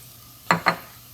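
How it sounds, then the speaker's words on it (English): Oil hits a hot pan while red lentil soup is being cooked, two quick sizzling bursts in succession, close and fairly loud over a quiet background. "add a little bit the oil here now."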